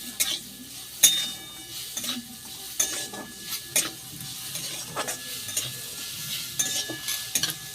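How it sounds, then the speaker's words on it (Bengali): A spatula scrapes and stirs grated coconut with ground cardamom as it fries in a pan for patishapta filling, giving repeated scraping strokes and clinks over a faint low sizzle, close and moderately loud, with no talking. "এইবার খুন্তি করে ভালো করে নারকেলটা ভেজে নেব।"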